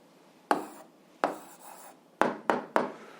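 Pen strokes on paper while an algebra answer is written down: five short scratchy marks at uneven intervals, close and fairly quiet, each fading quickly, with no talking.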